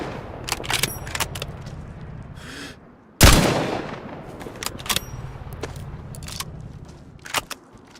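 Gunshots in DayZ, a series of sharp cracks with one loud, close blast in the middle followed by more scattered shots, set against a low ambient rumble.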